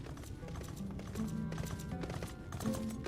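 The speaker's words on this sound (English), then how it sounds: "Oh wow, nice horse." Horse hooves clip-clop in the video game Final Fantasy XIV, a steady close rhythm of taps over busy game music and ambience.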